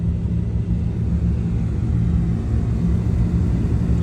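A Volvo V70 T5 engine runs with a low, steady rumble close by, an even idle with no talking over it.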